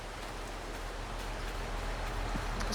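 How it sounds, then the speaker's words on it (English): Steady rainfall in the farming game Farming Simulator 22, a dense, even hiss of drops on surfaces that holds constant and fairly loud with no pauses. "it's still raining, kind of miserable"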